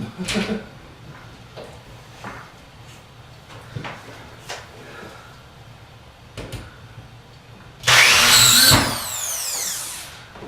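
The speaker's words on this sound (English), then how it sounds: "drill in the rest of the pilot holes and set the rest of the screws" A power drill whirs loudly for a couple of seconds driving screws while building a bookshelf, preceded by scattered knocks and clunks of handling tools.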